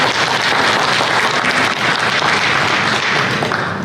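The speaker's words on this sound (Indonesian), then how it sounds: "Boleh kita berikan tepuk tangan sekali lagi untuk para direksi serta komisaris yang hadir hari ini." Audience applause for bank directors and commissioners at an economic outlook event, a continuous loud wash of clapping lasting the whole stretch with no talk.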